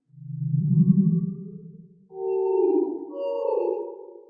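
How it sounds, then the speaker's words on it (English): A ghostly voice plays backwards through a long, echoing reverb, two smooth swelling phrases that rise in pitch and then hang and fade with a hollow, sonar-like wash. No other sound. "To make the sound of Ghost's voice more ethereal, I played it backwards and applied a long, echoing reverb effect to it."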